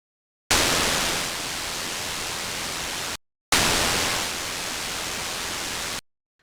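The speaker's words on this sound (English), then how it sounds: "playing a note after the note has decayed, you can hear the sustain." Two separate held notes from a chiptune synth, the Magical 8-Bit Plug in Logic Pro X, each with a harsh hissing noise-like tone. Each starts loud, drops to a steady sustained level, then stops abruptly.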